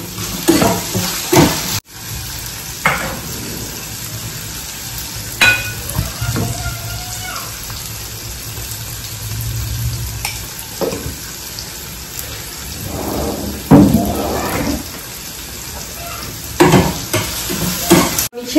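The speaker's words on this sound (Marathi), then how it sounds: "तर हिरव्या मिरच्या टाकते, म्हणजे क्रिस्पी होते." Green chillies fry in a pan in a home kitchen, giving a continuous close sizzle broken by stirring scrapes and knocks of utensils against the pan. No one talks.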